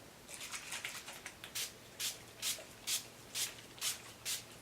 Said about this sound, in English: I'm going to go ahead and set my face using the NYX Dewy setting spray